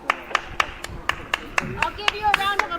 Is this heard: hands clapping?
yes